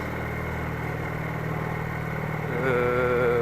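A Junak M11 Cafe motorcycle, its engine a copy of the Honda CA125 Rebel's, idles steadily with a low, rumbling putter, then the revs rise slightly near the end; no voices.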